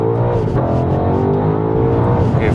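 A BMW X5 G-Power engine accelerates with a loud, sustained, rising roar close up, its harmonic drone climbing steadily throughout without speech.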